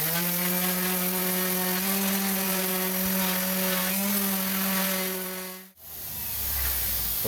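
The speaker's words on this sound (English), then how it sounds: "I'm just using an orbital sander" An orbital sander grinds across hot-rolled steel being prepped for 4th-gen 4Runner rock sliders, a loud, steady whirring buzz with a high whine that cuts off abruptly near the end before the motor spins down.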